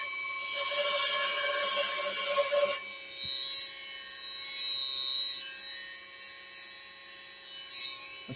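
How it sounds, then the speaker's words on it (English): A wood lathe turning a wooden ladle, with a loud, steady high-pitched whine and a rushing cutting noise over the first three seconds. After that it settles into a quieter sustained tonal hum with faint swells. "This lathe is fairly loud today."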